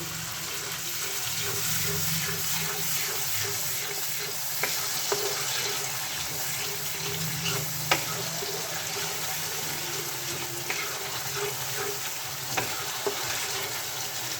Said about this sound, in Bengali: এটাকে এবার নাড়াতে নাড়াতে আমি এর মধ্যে একটু করে জল অ্যাড করতে থাকবো।